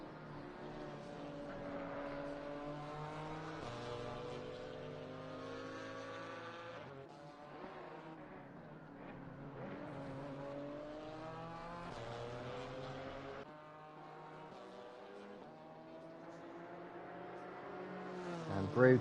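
A BMW GT4 race car lapping Laguna Seca in Assetto Corsa Competizione, its engine rising and falling through gear changes as it brakes and accelerates through corners, steady and prominent throughout.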